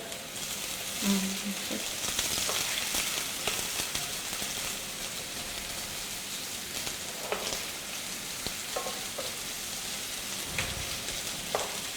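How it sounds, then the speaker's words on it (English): Chopped onion fries in a pan with a continuous crackling sizzle, broken by occasional scrapes and taps of a spoon stirring it. "Okay, you're going to stir that a bit."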